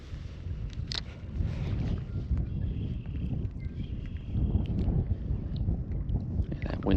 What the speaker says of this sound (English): And that wind is cold.